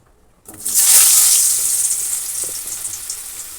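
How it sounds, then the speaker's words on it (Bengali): Potatoes dropped into hot oil burst into a loud, hissing sizzle that flares up close and then settles into a steady, slowly fading fry with light crackles. "দেখো এখানে এখন আলুগুলো ভেজে নিই।"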